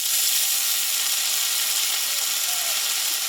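Steady bright sizzle of a tomato and ground spice paste of green chilli, ginger, cumin and poppy seed frying in a hot pan, a constant hissing layer with no talk.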